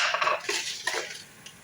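A metal spoon clinks and scrapes against a pot while salt goes into macaroni cooked with curry, a few close, light strikes over about a second, then a faint tap.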